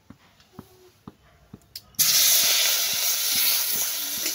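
Katla fish pieces coated in turmeric and salt go into hot oil in a kadai: a few soft taps and clicks, then a sudden loud, steady hiss of frying that holds to the end.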